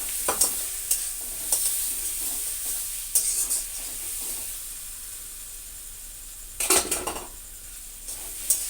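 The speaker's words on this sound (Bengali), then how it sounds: "সুন্দর করে কষিয়ে নেব" Pressure-boiled potatoes being sautéed in a spice masala for aloo dum, with a soft sizzle under intermittent scraping and clinking of a utensil against the pan, close and without talk.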